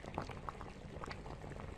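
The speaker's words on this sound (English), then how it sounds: "Cooking bubbling." A pot of water bubbling as it boils while cooking, faint and close, with soft irregular pops and gurgles over a low steady simmer.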